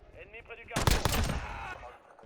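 Gunfire in a Call of Duty multiplayer match, a short burst of rapid automatic shots at moderate loudness, with someone talking before and after the burst.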